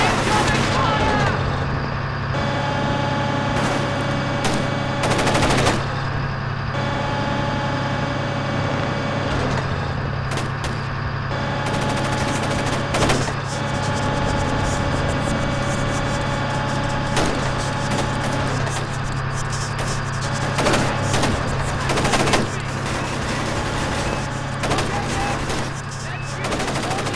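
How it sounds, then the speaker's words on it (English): Sustained gunfire in the video game Splinter Cell Chaos Theory, dense bursts of shots over a constant droning engine-like background and game music for the whole stretch, with voices calling out at times. "Incoming fire!"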